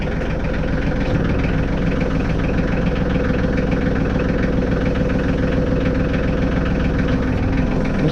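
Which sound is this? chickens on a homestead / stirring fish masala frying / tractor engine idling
tractor engine idling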